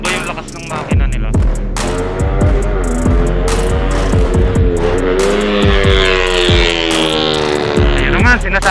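Several motorcycle engines run and rev loudly together up close, with steady droning harmonics, repeated throttle surges and sharp low thumps throughout.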